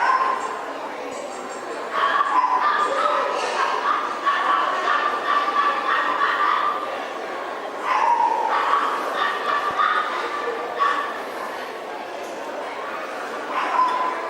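Small puppies yipping and whimpering in short bursts, several high little barks scattered over a murmur of voices at an indoor dog show judging at the Ekka.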